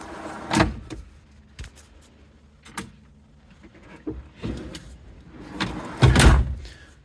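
A series of thuds, clunks and sliding knocks as kitchen panels and drawers in the back of a Lexus LX470 are shut, ending with a heavier closing bang.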